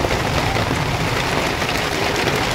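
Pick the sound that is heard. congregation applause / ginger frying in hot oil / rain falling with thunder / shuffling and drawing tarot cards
rain falling with thunder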